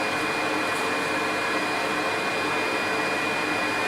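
A dental implant drill runs steadily while preparing bone during an implant procedure, giving a continuous high-pitched whine with a constant hiss, close and unbroken for the full few seconds, with no talk.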